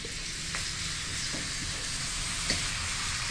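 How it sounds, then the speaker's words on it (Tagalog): Garlic and other aromatics sizzle steadily in hot oil in a pan, a continuous close hiss with a few light stirring clicks and no talking. "ipiprito po natin siya."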